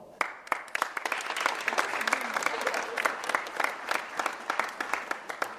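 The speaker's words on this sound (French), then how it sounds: "On applaudit encore." Sustained audience applause from a crowd, dense rapid clapping filling the whole stretch at steady loudness, with faint voices mixed underneath.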